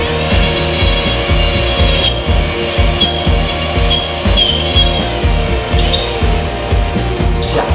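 Continuous loud grinding of a dental implant drill cutting into the jaw ridge during a basal implant placement, with a steady rasping pulse and thin whining tones above it.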